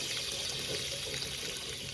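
Water pours steadily from the drain opening of a camper's water heater after its plug is pulled, a continuous close rushing splash with no talk over it.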